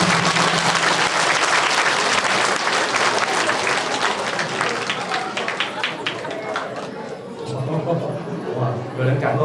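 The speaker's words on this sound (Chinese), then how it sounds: "我们给他们掌声鼓励鼓励" Applause from a church congregation for children during a Mother's Day joint worship service, a dense sustained clapping that fills the room, easing toward the end as voices rise underneath.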